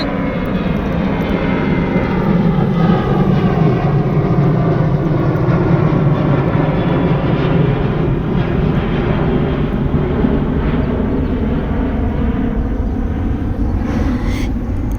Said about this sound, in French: Oh, attends l'avion.